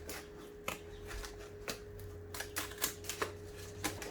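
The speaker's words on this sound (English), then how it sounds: "I'm going to go back and do it with my X-Acto knife." Paper teddy bear cutout being trimmed with an X-Acto knife, a close, quiet series of irregular sharp clicks and scratchy cuts over a steady low hum, with no talking.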